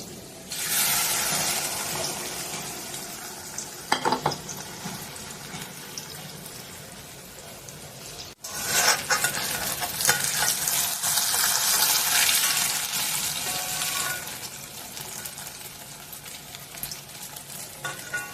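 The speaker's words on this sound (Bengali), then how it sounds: "তেলটা গরম হয়ে গেছে, এবার আমি দিয়ে দেবো" Eggs fry in hot white oil in a pan. A close, crackling sizzle swells sharply partway through and stays loud and busy afterward, with no talking.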